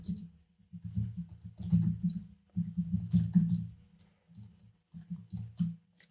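Fingers type on a computer keyboard in close, quick bursts of clicking keys, separated by short pauses, with no talking.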